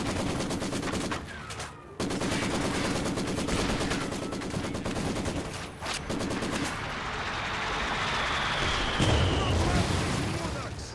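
A WWII strategy video game battle with a rocket launcher, a T-70 tank and a Soviet mortar. Loud, dense bursts of gunfire and booms roll on continuously, with a brief gap and a heavy blast near the end.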